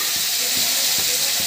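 Shallots, green chillies, dried red chillies and curry leaves sauté in hot oil after mustard and cumin seeds have popped, making a steady close sizzle and hiss with a few faint soft knocks from stirring.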